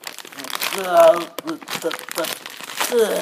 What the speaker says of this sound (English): Now, let me tear open the rest.